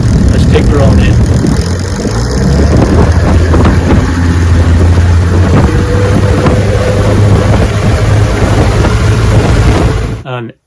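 A boat driven by a vintage outboard motor runs steadily on a lake, its engine drone loud and close under heavy wind buffeting on the microphone, then cutting off abruptly at the end.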